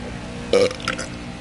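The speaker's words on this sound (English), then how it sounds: "Man, these burps taste so fucking good, man." A single loud, close burp from a man drinking Budweiser beer, a short voiced rumble of about a second that stands out over a quiet room.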